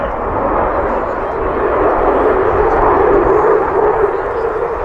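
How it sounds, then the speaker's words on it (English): Loud, continuous roar of a jet aircraft on afterburners at the Teesside Air Show 2022, a broad steady rush with no gaps that holds level across the whole stretch. "afterburners mean jet noise, the sound of freedom."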